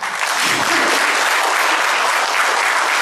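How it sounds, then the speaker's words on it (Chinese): A crowd of guests at a company event gives loud, sustained applause, a dense, even clapping roar that holds at full strength throughout. "大家的掌声可以再持久一点可以吗"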